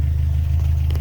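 A 1986 Toyota pickup engine idling after sitting unused for a year, a steady low rumbling drone with even pulses, close and fairly loud, alone without talk.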